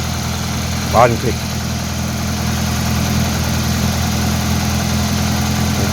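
A 1999 Toyota Corolla engine, just started after an oil seal repair, idles with a steady low rumble close by. Someone speaks briefly near the start.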